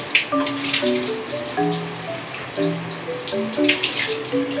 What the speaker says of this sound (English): rinse it using your water again to rinse the